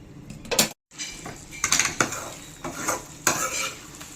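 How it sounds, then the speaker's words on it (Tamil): Chettinad chicken sautéed in a pan sizzles steadily while a metal utensil scrapes and clatters against the cookware in repeated, uneven stirring strokes, close and fairly loud, with one brief silent gap. "நல்லா நம்ம வதக்கி விட்டுக்கலாம்."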